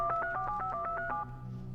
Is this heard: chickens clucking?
no